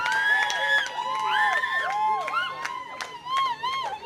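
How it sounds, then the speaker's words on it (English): A festival audience cheers and whoops for the winners at an arts event, excited voices and shouts in layered bursts with light applause mixed beneath. "Please, a big round of applause for the winners."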